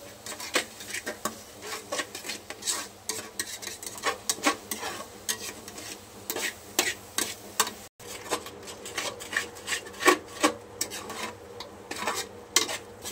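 A thick homemade crab curry masala paste of black masala and red chilli powder is stirred in a metal pan, giving rhythmic scraping and clinking strokes up close with a faint sizzle underneath.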